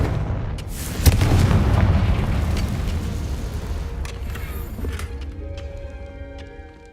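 Confringo fire spell in a Hogwarts video game: a sharp blast that swells into a long rumbling explosion, then decays into crackling debris and a faint lingering ring.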